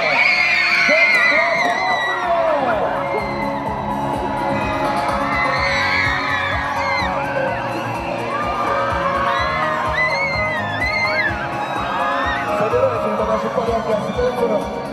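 An audience at a dance award ceremony roars with steady cheering, whoops and high screams, loud and continuous throughout with no break.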